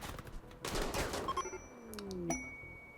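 Video game gunfire during a tribal raid, a quick faint rattle of rapid shots followed by a ringing ding and a falling whine, with no talking.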